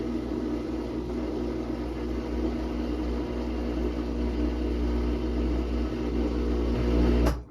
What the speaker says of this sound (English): it enters the spin cycle to test the motor run at high speed